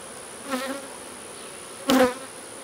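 Honey bees buzzing around an open hive during a honey harvest as drizzle starts: two close buzzing passes, one brief and softer, the second louder, over a quiet background.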